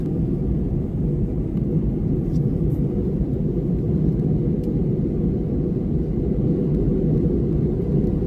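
Steady, loud low rumble of a passenger airplane cabin during descent toward landing on a flight to Sarasota, Florida, a constant engine drone filling the whole stretch with no talk.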